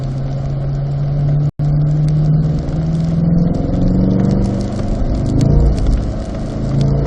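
A race car accelerates out of a corner on a wet track in the rain, its engine note droning steadily and rising in pitch, loud and close throughout with a brief dropout partway through.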